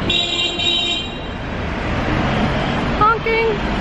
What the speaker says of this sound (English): Honking.